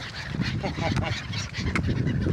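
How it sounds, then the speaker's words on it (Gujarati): Lake birds being fed gathiya snacks honk and squawk in a lively jumble close by, with people's voices mixed into the flock's calls. "સરોવરમાં દલસુખભાઈ હેમાભાઈ દુદેશિયા પક્ષીને ગાંઠિયા ખવડાવે છે અને પક્ષી રાજીના રેડ થાય છે"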